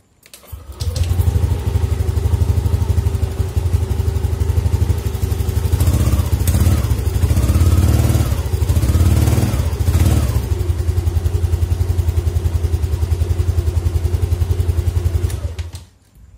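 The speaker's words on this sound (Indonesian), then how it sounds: "Mudah-mudahan motor ini nyala ya guys." A motorcycle engine, repaired after a broken ignition coil cable caused stalling and sputtering, fires up after a second and settles into a loud, close, steady idle with a slight rise in revs midway, running until the end.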